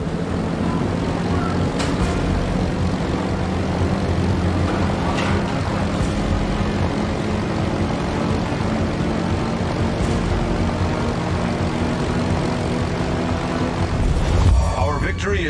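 Launched planes in World of Warships give off a steady propeller-engine drone that holds evenly throughout, with a voice speaking over it.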